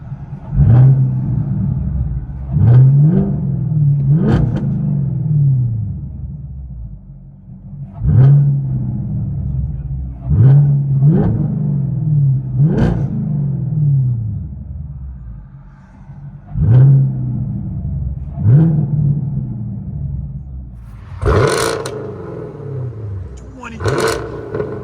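A 2023 Chevy Camaro SS with a straight-piped 6.2L V8 and a rear muffler delete with quad tips revs repeatedly. Deep, rumbling blips rise and fall in a steady rhythm with short pauses between them, loud and close, and wind noise is audible.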